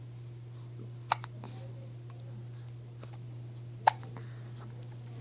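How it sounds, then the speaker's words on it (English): Two sharp hiccups from a small pet, the first around a second in and a louder one near four seconds, set apart by quiet with a steady low hum underneath. "Somebody's got the hiccups."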